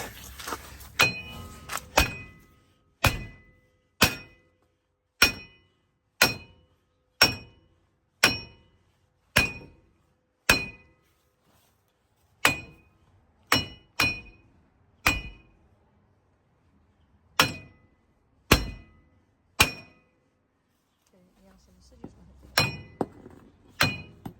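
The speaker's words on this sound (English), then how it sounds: "And you just have to keep hitting." A hammer strikes repeatedly on a 2006 Dodge Dakota 4.7 4WD front wheel bearing, sharp metallic clanks ringing out one by one at a steady pace with short pauses between blows, close and loud with no talking.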